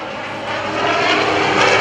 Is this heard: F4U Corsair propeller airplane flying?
yes